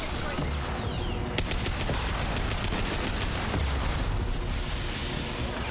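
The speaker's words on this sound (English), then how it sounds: "Oh, that's a lot of gunfire." Dense, continuous gunfire and explosions in Mass Effect 2 fill the mix, a loud unbroken barrage of rapid shots and booms with no quiet gaps.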